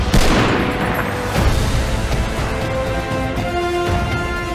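Dense gunfire and explosions in a Call of Duty: WWII trailer, rapid overlapping rifle and machine-gun bursts with heavy booms, loud and continuous throughout.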